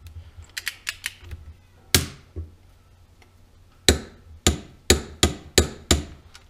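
Sharp metallic clicks from a torque wrench tightening bolts on a 150 go kart: a scattered burst of quick ticks, two louder snaps, then a steady run of six evenly spaced loud clacks near the mic.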